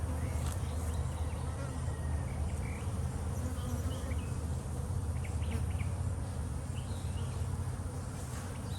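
Steady, dense buzzing of many honey bees close by at beehives, a continuous drone that holds at an even level throughout with no voices.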